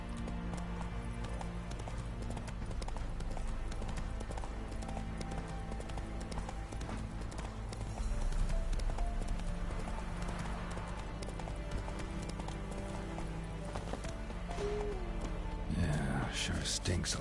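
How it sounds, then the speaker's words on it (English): Horse hooves clip-clop steadily in The Witcher 3 while the horse is ridden through the game world, a continuous rhythmic trot under game music and ambient sound, with a voice talking over it at times. "Come on, horsey. Giddy up."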